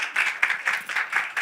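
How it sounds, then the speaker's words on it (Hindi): An audience at the grand launch of a TV serial claps in brief pulsing bursts of applause, close and fairly loud, with no voices over it. "एक बार जोरदार तालियां हमारी प्यारी सी श्रवणी के लिए"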